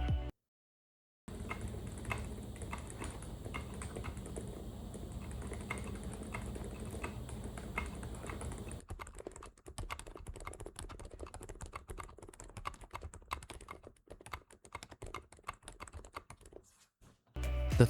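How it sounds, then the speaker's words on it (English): A mechanical keyboard fitted with Peach V3 silent switches is typed on for a long, steady stretch of muted, slightly scratchy keystrokes, close and fairly quiet, with no voices. "Peach V3s, which is a silent switch, and it pretty much mutes all the sound, but it's just a little scratchy."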